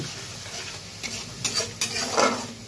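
Spices with turmeric powder and sugar being stirred in a frying pan while cooking squash ghonto: a steady soft sizzle under scraping strokes of a spatula, close up, with a few louder clinks against the pan and no talk.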